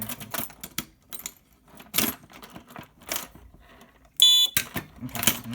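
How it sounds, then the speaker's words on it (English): An alarm system control panel beeps during a zone walk test, giving a short bright cluster of high electronic beeps amid handling clicks, key jangles and faint room noise. "So every 5 seconds it'll beep as long as this one's on."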